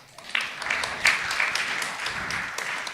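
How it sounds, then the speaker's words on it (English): An audience at a book and author event breaks into brief applause: a few seconds of close, even clapping with a handful of sharper individual claps standing out. "That deserves applause"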